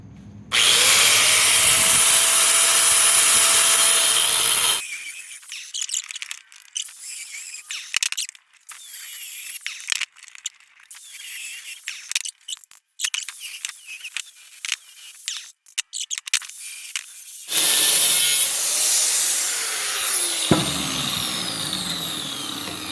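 A power tool cuts a piece off a metal bar for wet storage on a Geo Pro 19FD travel trailer: a loud, close whine opens, broken scraping and rattling follow, then the shrill cutting whine returns and sweeps in pitch.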